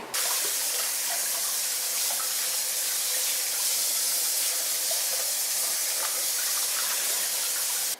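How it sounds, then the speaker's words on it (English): Water runs steadily into a kitchen sink while pots are washed with soap, a constant close hiss and splash with faint clinks, no voices. "I'm just going to use soap and water because I still have to get all of that oven off of them"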